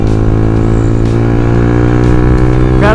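Yamaha R15 V2 motorcycle with a racing exhaust idles loudly and steadily up close, a dense rumbling engine tone running throughout with a small rev rising at the very end.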